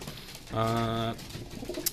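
Racing pigeons in a loft give a sustained cooing call lasting about half a second, fairly close and clear, with faint rustling and background noise around it.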